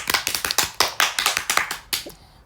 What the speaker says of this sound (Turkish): Bir alkış alayım